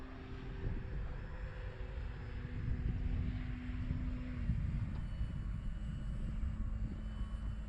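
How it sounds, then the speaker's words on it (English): A Carbon Z T-28 RC model airplane's engine buzzes steadily nearby, its pitch dropping slightly midway as it passes, with a continuous droning whine throughout. "Man, that's a beautiful plane."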